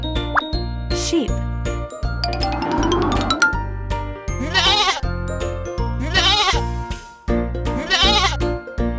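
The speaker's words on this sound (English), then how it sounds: "Sheep." Cartoon sheep bleats in a kids' educational colors clip, a few wavering bleats set against a steady bouncy music bed with plopping and tinkling effects.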